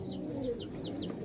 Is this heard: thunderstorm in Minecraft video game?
no